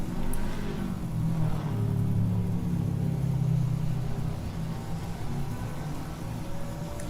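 A race car engine in Assetto Corsa EVO leaving the pit exit and coming closer, heard as a steady low droning rumble that holds throughout with no talking.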